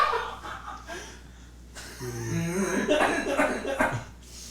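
A man lets out a raspy smoker's cough that breaks into chuckling and laughter at a rowdy tabletop dice game, with breathy snickers around it.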